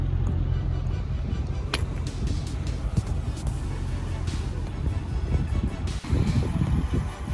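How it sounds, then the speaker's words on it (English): A steady Mercedes M113 V8 engine rumble from a C55 AMG runs throughout, low and continuous, with some wind buffeting and faint background noise. "This 113 engine sounds absolutely awesome."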